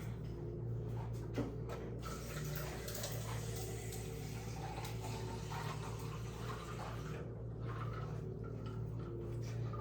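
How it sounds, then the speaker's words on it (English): Steady running water pours into a container, a continuous rushing fill with a low hum underneath and no talking. "Let me fill this up with water."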